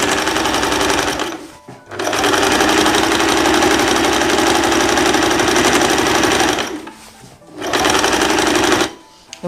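A sewing machine stitches a straight seam on a dress with elastic, running in fast rhythmic bursts with short pauses between them as the stitching reverses for a backstitch, loud and close.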